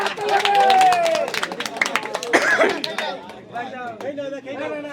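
An audience claps after a contest to eat a 3 kg watermelon in two minutes, with brisk crowd clapping mixed with loud chatter and shouting voices, then fading to talk.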